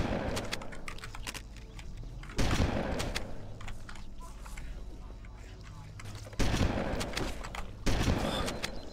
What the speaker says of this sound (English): Oh, the shotgun's so good.